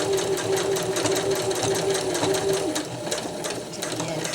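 A sewing machine runs steadily, stitching a zigzag seam on a poly tree strap with a fast, even mechanical chatter, fairly close, while someone talks over it.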